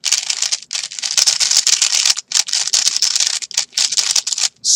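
Steady fast typing on a mechanical keyboard fitted with LingYun v1 switches, a stable, deeper-toned board. The dense, close clatter runs almost continuously, with a few short gaps and no talking.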